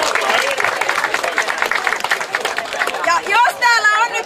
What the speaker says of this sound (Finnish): Hei, annetaan oikein isot aplodit molemmille joukkueille.